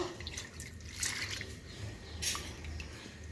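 Water swishing and dripping as chana dal (split chickpeas) is rinsed by hand in a bowl, soft, close sloshing and trickling that stays fairly steady throughout.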